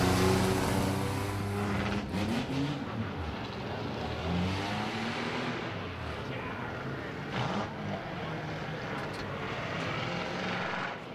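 Crown Victoria race cars run laps at Midvale Speedway, their engines droning loud and near in a continuous roar with rising and falling pitch as they pass.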